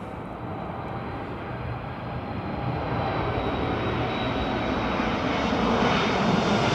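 Freighter aircraft landing at London Heathrow in crosswind, a strong engine roar building steadily louder as it approaches and touches down, with a thin whining tone running over the rumble.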